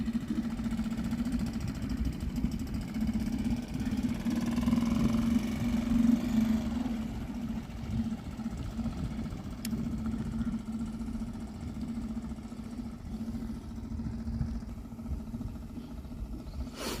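A small dinghy outboard motor idles steadily with a constant low hum and drone, running alone throughout at a moderate, unchanging level.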